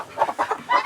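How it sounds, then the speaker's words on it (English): A backyard farm chicken clucks several times in quick succession, close and fairly loud, with short rhythmic bursts and no talk over it. "And this chicken right here"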